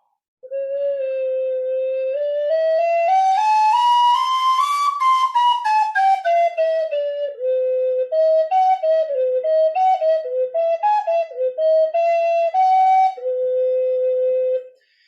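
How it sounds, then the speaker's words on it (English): A flutophone plays a slow rising and falling melody, breathy and whistle-like, with several short separated notes before ending on a held tone. "It's called a flutophone."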